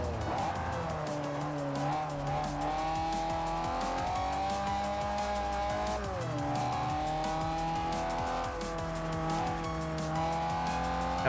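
A race car in Forza Motorsport 4 screams under hard acceleration with rising and falling engine pitch through gear changes, and tires squeal as it corners, loud and continuous.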